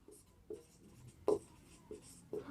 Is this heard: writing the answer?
yes